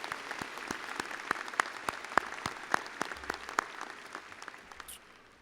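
Scattered applause for the speakers at The Colony High School's 2018 graduation ceremony: a steady, moderate patter of claps with a few sharper individual claps, thinning out and dying away just before the end.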